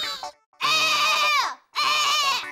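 A voice imitates a crow crying, producing two long wavering bleats that sound like a goat, each loud and close, preceded by a short vocal lead-in.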